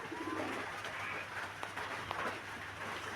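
Fancy pigeons coo softly in a low, repeated murmur against a busy background hum, with faint bird calls mixed in.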